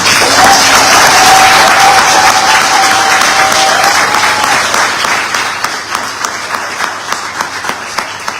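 Audience at a university graduation recognition ceremony applauding the graduates, loud sustained clapping with a few whistles and cheers, gradually thinning to scattered claps near the end.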